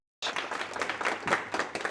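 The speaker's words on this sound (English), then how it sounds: "I think we can give applause to Leah." Audience applause at an online e-forum, steady moderate clapping that begins abruptly after a brief silence and continues throughout.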